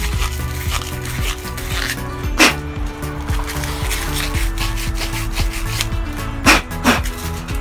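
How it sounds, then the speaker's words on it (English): Rolled-up sandpaper scrubs around inside a dirty pipe fitting, making close, steady rasping strokes with a few sharper scrapes along the way. "roll up some sandpaper and then just kind of like get it inside, clean that out"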